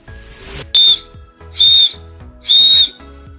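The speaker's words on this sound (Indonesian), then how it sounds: "Cukup dengan meniup peluitnya." Three sharp, shrill blasts from a small safety whistle on a bag, each short and piercing, with brief gaps between them.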